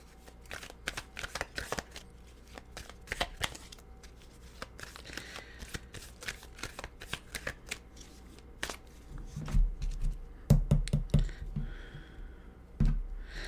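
Tarot cards are shuffled by hand in a quiet room, a steady stream of soft riffling and flicking, close and fairly faint, with a few thumps as the deck is squared.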